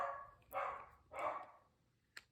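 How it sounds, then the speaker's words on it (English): Dogs bark indoors, heard faintly at a distance: two drawn-out barks about half a second apart, followed by a short sharp yip. "My dogs are going insane."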